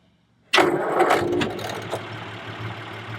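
An unrestored 1929 Willys-Overland Whippet 98A engine cranks and catches abruptly, roaring loudly for a second before settling into a steady, lower rumbling idle.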